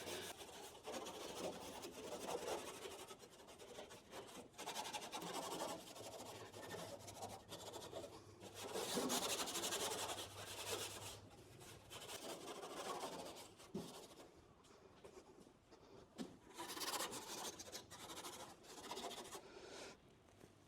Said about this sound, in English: I might even put a little bit heavier sandpaper on here